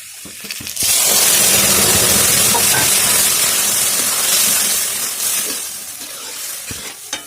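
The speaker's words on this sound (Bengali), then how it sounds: "এবার আমি ডালটা এতে ঢেলে দেবো।" Lentils poured into a hot pan of fried onions, bursting into a loud, rushing hiss and sizzle after a brief clatter, holding steady and then easing off toward the end.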